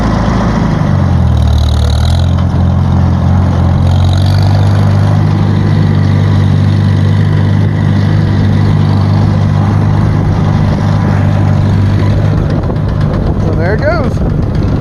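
A tractor spreading hay, heard as a steady, loud, low engine drone running through the whole stretch with little change.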